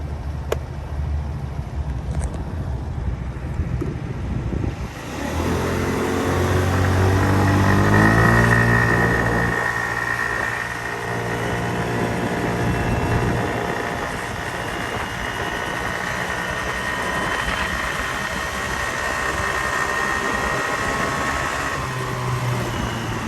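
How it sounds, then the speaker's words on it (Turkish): An RKS Blazeer XR 50cc motorbike pulling away and accelerating toward top speed with an 85 kg rider, its small engine whining upward in pitch through the gears, then holding a steady buzzing drone. "sıfırdan motorun nasıl hızlanıyor?"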